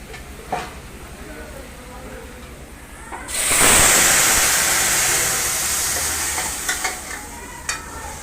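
Mixed masoor, urad and toor dal hitting a hot pan partway through, bursting into a loud, sustained sizzle with clinks of stirring. The sound is quiet before the sizzle starts.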